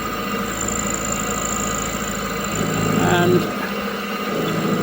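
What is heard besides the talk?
mini milling machine cutting a motorcycle headlight bracket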